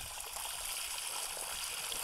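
Water trickles at a stream water source along a hiking trail, a soft continuous hiss of running water at low level with no voices.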